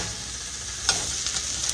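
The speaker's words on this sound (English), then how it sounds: "Our onions are sauteing real good. With that butter in there." Onions sautéing in butter in a skillet give a steady, close sizzle and frying hiss, with a brief stirring scrape near the midpoint and a few softer clinks after it.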